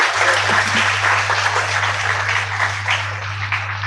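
A crowd claps steadily at a 75th Foundation Day celebration, dense and fairly loud applause holding evenly from start to end over a low electrical hum.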